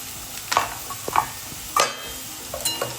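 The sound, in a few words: mushrooms frying with onion and tomato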